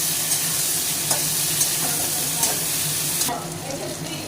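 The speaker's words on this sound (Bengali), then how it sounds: "টমেটো দিলাম, কষাবো।" Tomatoes frying in a pan for fish curry, a loud steady sizzle with occasional scraping stirs, the hiss easing slightly near the end.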